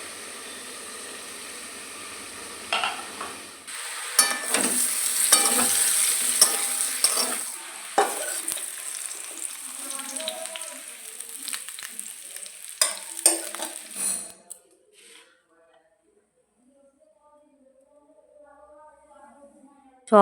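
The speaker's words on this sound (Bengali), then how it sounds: "আমি এই প্রত্যেকটা সবজি একটা একটা করে ভেজে নিচ্ছি" Vegetables frying one batch at a time in a hot pan, with a steady loud sizzle and scraping stirs for about fourteen seconds before the sound drops to near silence with faint clinks.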